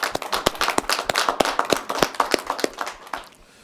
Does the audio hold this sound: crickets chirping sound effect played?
no